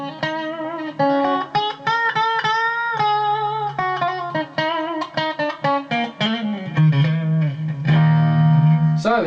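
An Epiphone Nighthawk Custom Reissue electric guitar, with its bridge humbucker and single coil pickups combined, plays close-up chords and single notes with ringing sustain, rising to louder strummed chords near the end.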